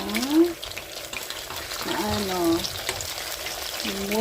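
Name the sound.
salmon belly frying in a pan, being flipped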